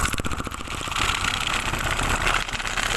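A small machine's motor runs steadily and close by, a continuous buzzing hum with a slight rhythmic pulsing, no voices over it.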